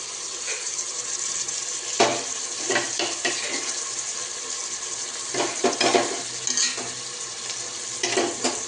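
Tomatoes and masala paste with yogurt fry in a pan for mushroom biryani, a soft sizzle running throughout while a spoon stirs and scrapes in irregular strokes, with no voices.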